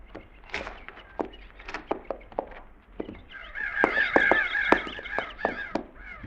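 Crows calling out in the open, a series of loose, irregular caws and squawks from several birds, some nearer and louder, rising into a denser cluster of harsh calls midway.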